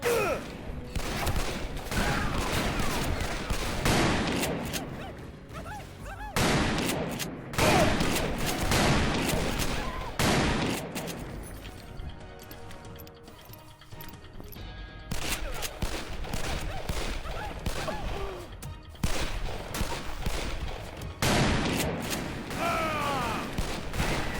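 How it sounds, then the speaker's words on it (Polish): Repeated gunfire from Call of Juarez: Bound in Blood rings out in volleys of sharp shots separated by brief lulls, loud and continuous across a long firefight. "Tak strzelam"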